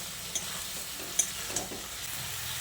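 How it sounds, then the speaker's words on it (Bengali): Jackfruit sautés in a pan with a soft, steady sizzle, punctuated by a few sharp clicks of a spatula against the pan. "আর দেখুন এঁচোড়টা এখনও একটু কষাতে হবে"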